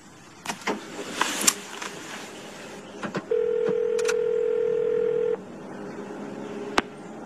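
A single steady ringback tone sounds for about two seconds while a call is placed from a car, following some clicks and rustles, with faint car interior noise around it.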